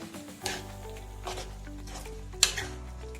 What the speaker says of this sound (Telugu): చింతపండు వేసి బాగా కలపాలి